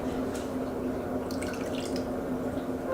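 Vinegar is poured into a humidifier diffuser, a steady trickling and dripping of liquid close by, continuous throughout with faint higher splashes.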